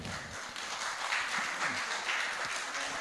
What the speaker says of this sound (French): Un petit applaudissement s'il vous plaît.